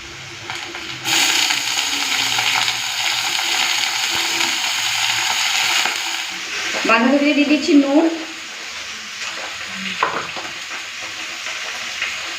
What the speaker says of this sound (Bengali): এই তেলেই বাঁধাকপিটা শাকের মতো করে ভেজে নেবো